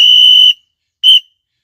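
A whistle blown to imitate a train whistle during a Marathi devotional song gives two loud, shrill blasts, a long one followed by a short one after a pause, with nothing else audible.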